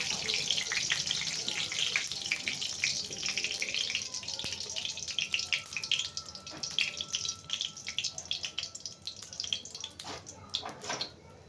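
Black cumin seeds crackle and sizzle in hot oil in a wok, a hissing, spitting fry with scattered pops that thin out toward the end.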